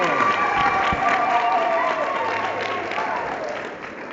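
A church congregation gathered for a talk on the Virgin Mary applauds in a steady, dense ripple of clapping mixed with crowd murmur, loud at first and thinning slightly toward the end.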